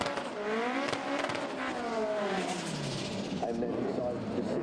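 A front-wheel-drive drag race car accelerates hard down the strip at Santa Pod Raceway, its engine note climbing through gears with rising whine, loud and steady throughout without audible talk.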